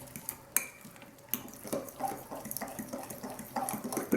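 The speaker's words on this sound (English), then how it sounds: "So I'm going to add a little bit more water to this." Near-boiling water is poured into a homemade fish and coral food mixture in a bowl. Close splashing and trickling runs continuously, with light clinks of a utensil or container over a few seconds.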